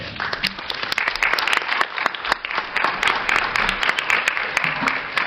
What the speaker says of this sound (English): Ladies and gentlemen, let's have a round of applause for all of you